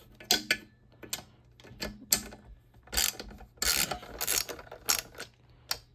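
Bolts and nuts are loosened with a ratchet while fitting a Total super bar, giving close, loud bursts of rapid clicking in uneven strokes with short pauses between.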